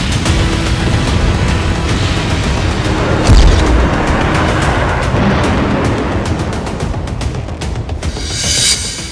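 A heavy drone bomb explosion in Homs, Syria: a loud deep boom rolls through a dense, rumbling roar of noise, close and sustained, with no voices audible.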